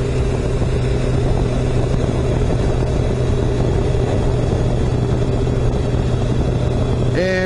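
A 1997 Kawasaki Concours motorcycle cruises through town on a warm evening, its engine a steady, continuous drone mixed with wind rush, heard loud and close from the rider's position.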